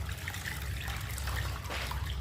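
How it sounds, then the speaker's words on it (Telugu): Water trickling and splashing as it is poured back over split black gram being rinsed, a steady close liquid dribble with no talk. "మళ్ళీ ఈ వాటర్ని దీంట్లో పోసేసుకోండి"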